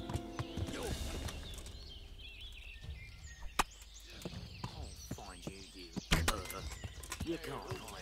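Horse hooves in the video game Kingdom Come: Deliverance clip-clop at a steady walking pace, mixed with scattered game sound effects and quiet thuds, with a voice speaking Russian occasionally over them.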